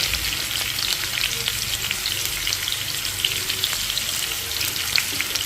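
Sliced bitter gourd frying in oil with turmeric and salt, a steady dense crackling sizzle with small pops and occasional stirring scrapes, close and continuous throughout.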